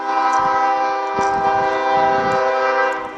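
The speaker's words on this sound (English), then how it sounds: "Let's cut out wait for the train." A train horn blares loud and steady for about three seconds beside the tracks on Green Street in Scottsburg, its layered tones holding with faint rumbling underneath.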